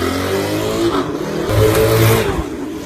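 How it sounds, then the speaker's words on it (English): A turbocharged Hunter chopper motorcycle engine revs loudly and close, its rough throaty note rising and falling through a few blips of the throttle. "He's taken the turbo Hunter for a little spin. So you can have a listen to it."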